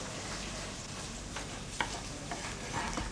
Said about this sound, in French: pendant que mes oignons blondissent